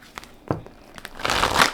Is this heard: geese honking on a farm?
no